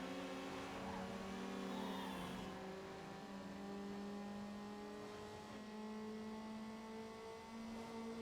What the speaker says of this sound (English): I love the hyper, like, high-pitched engine noises that you get when you start an event.